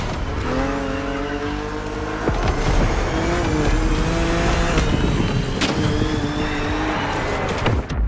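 A BMW Z4 E89 driven in The Crew Motorfest video game roars continuously at high revs, engine note shifting through gears with tire squeal and skidding noises, loud and close throughout.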